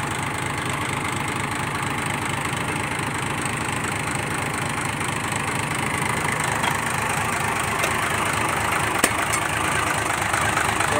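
A dump truck engine idles steadily and close, with a constant rough, rumbling drone and slight knocking texture throughout and no speech.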